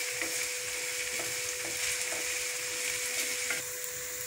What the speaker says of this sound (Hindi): अब हम लोग फिर से इसको दोबारा से फ्राई करते हैं।